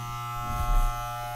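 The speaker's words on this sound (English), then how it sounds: "you're going to shave your head" Electric clippers shaving a head, a steady close mechanical buzz that swells briefly as the blades press in.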